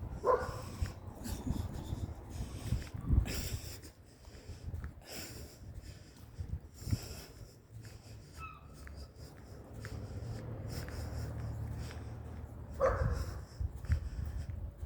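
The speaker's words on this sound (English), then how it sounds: "put a letter through my door saying there's dog barking" Dog barking repeatedly during an afternoon walk outdoors, sharp yelps and barks scattered through steady wind and ambient noise, some barks louder and closer, others fainter, with no clear speech.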